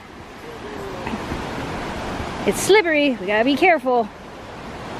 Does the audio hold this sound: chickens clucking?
no